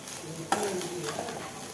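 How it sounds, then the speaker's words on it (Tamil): Rice stirred into a fried onion mixture in a pan, a scraping stir with a light sizzle starting sharply partway through and continuing steadily, close and fairly quiet. "ஸோ ரைஸ் சேர்த்துட்டு நல்லா கிளறி விடுங்க"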